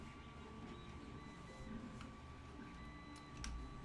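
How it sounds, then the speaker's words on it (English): A 3D printer runs steadily and softly, with a faint continuous motor whir and scattered small ticks heard alone at low volume. "I have my 3D printer running"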